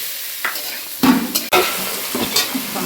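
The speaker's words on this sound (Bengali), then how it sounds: "আমি এই আলু কষছি" Potatoes being sautéed (kosha) in a pan, with spices such as cumin, coriander, chilli, ginger and garlic going in nearby, give close stirring scrapes and a soft steady sizzle, with a few louder spatula strokes against the pan.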